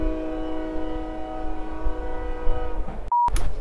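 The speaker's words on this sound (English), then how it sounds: "oh my gosh, there's a train" A train passes outside a window, its horn sounding as a long, steady, multi-tone blast over a low rumble, heard indoors, followed by a short electronic beep near the end.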